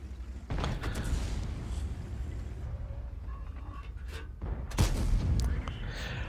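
Tank guns fire in the World of Tanks video game, with a sharp blast near the start and another loud shot near the end over a mechanical background rumble.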